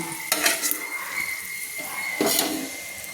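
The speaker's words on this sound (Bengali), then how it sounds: "লঙ্কা আর রসুনের কোয়া এগুলো কিন্তু একটা প্লেটে আমি তুলে নিচ্ছি, চামচ দিয়ে প্লেটে আমি তুলে নিচ্ছি" A metal spoon scrapes and clinks against a pan and plate while lifting fried chillies and garlic cloves, with a faint sizzle beneath and a couple of sharp scraping strokes standing out.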